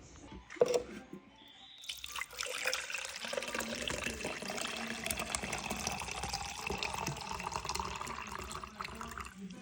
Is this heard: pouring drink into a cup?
yes